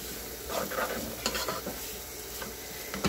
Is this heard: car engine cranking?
no